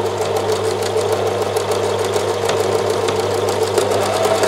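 A sewing machine stitches close to the edge of a coat lining, running continuously at a steady rapid rhythm with a constant mechanical hum, loud and near, with no voices.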